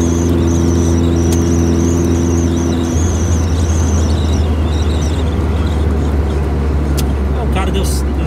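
A modified exhaust on a small car, a Gol, heard while driving to work: a steady low engine hum that deepens and grows louder partway through, with constant road noise and faint chirps above.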